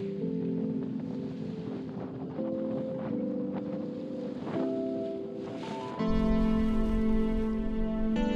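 Steady wind blows across open water aboard an anchored sailboat, a constant rushing roar with low rumble and tonal hums from the boat, growing louder and fuller toward the end.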